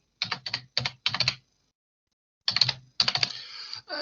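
Someone types short bursts on a computer keyboard, with four quick clusters of clicks, a pause of more than a second, then two more flurries, close and clear with no talking.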